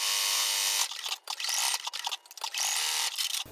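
A sewing machine stitches an appliqué quilt block, running in fast close bursts of whirring needle rattle with short pauses between runs, no talking.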